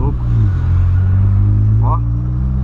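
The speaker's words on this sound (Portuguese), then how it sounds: "Olha o camaro amarelo ali vindo ali" A yellow Chevrolet Camaro drives past with a loud, close engine rumble that swells and then fades. Speech is heard over it.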